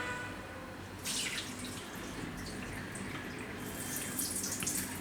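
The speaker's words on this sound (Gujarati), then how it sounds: "તો આ ભાતનું પાણી આપણે કાઢી નાખીશું." Water being drained off soaked rice before cooking, a steady pouring and splashing stream that swells in a few bursts, heard close with no talking.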